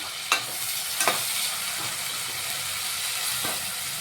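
Chopped tomato, onions and salt fry in a pan with an even, steady sizzle, marked by a few sharp spatula knocks near the start and end.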